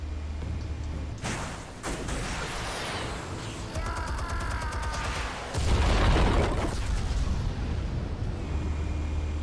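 Explosives detonating in Batman: The Telltale Series, heard as heavy booming blasts and crackling bursts, with a large deep explosion around the middle that rumbles on loudly to the end, all without speech.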